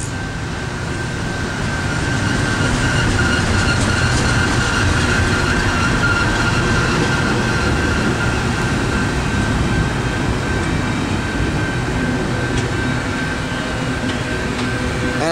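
Norfolk Southern NS24E intermodal freight train passing near Mableton, Georgia, with a KCS and NS locomotive lash-up, giving a loud, continuous rumble and rolling roar with a steady tonal whine throughout, no talking.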